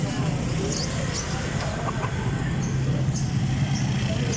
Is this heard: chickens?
yes